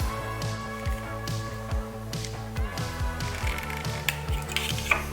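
A wrench threads and tightens an NPT fuel fitting while a flex fuel kit is fitted to a GR86. Steady, close ratcheting clicks and light metallic ticks repeat throughout, with no voices.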